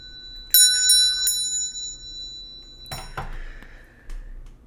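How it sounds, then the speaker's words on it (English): A small bell rings during a tarot card reading, struck three times in quick succession and then twice more, each clear metallic tone ringing out and fading in a quiet room. "I'm going to ring the bell."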